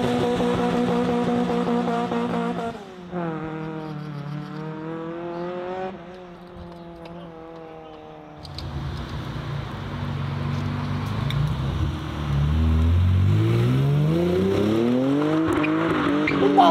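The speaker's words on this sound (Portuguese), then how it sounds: "O maluco meteu drift de Supra, que coisa linda, velho." A Toyota Supra drifting while leaving a car event, its engine revving hard and rising and falling in pitch, with tires squealing loudly and continuously as it slides.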